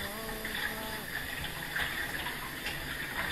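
Salt cod is rinsed under a steadily running tap, a faint continuous splash and gush of water over the fish with slight variations as it is handled, while a voice talks quietly over it.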